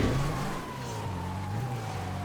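A 4x4 off-road vehicle driving in a GTA game, a steady engine drone with a faint rising whine as it cruises past at close range, no voices.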